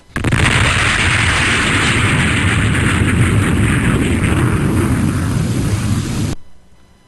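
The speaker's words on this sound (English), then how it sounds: "I'm advancing the ignition key. Here goes rocket 1." A rocket engine ignites on an aircraft, bursting into a loud, sustained roaring blast that holds steady for about six seconds before cutting off abruptly, leaving a faint low rumble.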